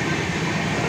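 Visakha Express races at high speed past Mandasa Road, a loud, dense, unbroken roar of wheels and carriages heard from on board.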